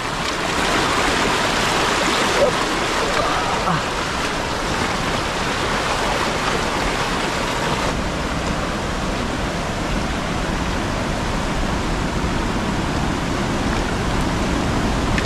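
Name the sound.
floodwater flowing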